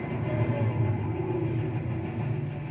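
Car engine in Need for Speed Most Wanted held at full throttle, a dense, steady, loud roar that rumbles continuously without breaks or gear changes.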